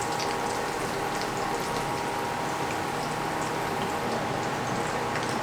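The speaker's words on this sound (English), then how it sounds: "And after some frying, as long as they are golden brown like so, you are done." Peach mango pies frying in hot oil give a dense, constant sizzle and crackle, close and steady throughout with no pauses.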